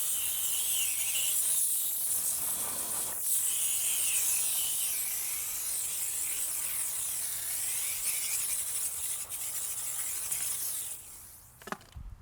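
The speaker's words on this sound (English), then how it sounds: "we are going to spray some more chemical to give us just some lubrication" Cleaning chemical is sprayed onto a car wheel in a long, steady hiss of spray that runs almost unbroken and close by, then drops off just before the end.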